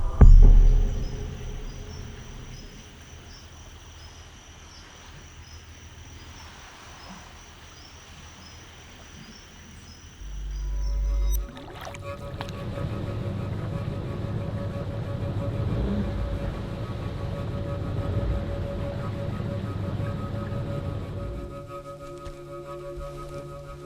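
Boat engine droning steadily as the vessel heads out of an Amazon lagoon, with a low rumble that swells around mid-clip and holds through to the end, no voices.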